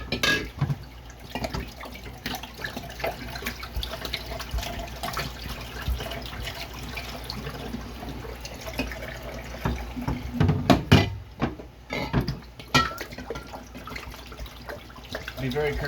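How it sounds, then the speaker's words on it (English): Tap water runs and splashes while a container is rinsed of bleach water in a sink, in uneven gushes and drips that rise and fall, fairly near. "we want to make sure we drain all the bleach water out and rinse it really well"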